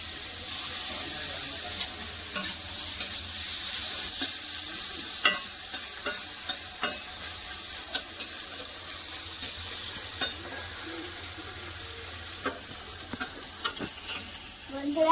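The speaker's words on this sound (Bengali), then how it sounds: "আমি এবার খাবার বানাচ্ছি উচ্ছা ভাজা করে উচ্ছা ভাজা করতেছি" Bitter gourd frying in mustard oil gives a steady, close sizzle with scattered sharp pops and spatters, while a utensil scrapes and stirs now and then.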